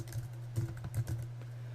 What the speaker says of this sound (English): I'm just going to type in here number array